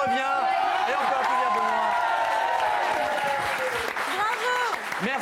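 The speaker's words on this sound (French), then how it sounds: "Et on peut applaudir Benoît" A French TV studio audience applauds with cheers and whoops, and the clapping runs under a host's speech and music throughout.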